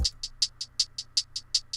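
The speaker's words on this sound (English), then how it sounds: "And then I have hi-hats, which sound like this." Trap beat hi-hats ticking in a steady, even pulse, ten bright crisp hits in under two seconds with a bouncing accent pattern, alone over a faint low hum.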